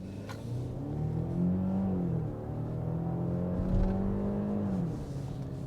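A Genesis GV80 2.5T four-cylinder engine hums steadily from inside the cabin while driving, its tone rising and falling gently with throttle, loud and continuous.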